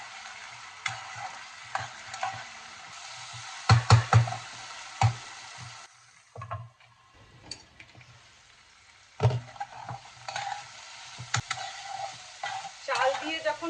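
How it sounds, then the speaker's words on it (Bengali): Soaked Gobindobhog rice stir-fried with half-cooked spices in a pan for a vegetarian banana-stem ghonto, with bursts of sizzling and scraping stirs, louder clusters around the middle and end, quieter gaps between. "এবার আমি ভিজিয়ে রাখা গোবিন্দভোগ চালটা দিয়ে দেব, দিয়ে এটার সাথে চালের সাথে কষাবো।"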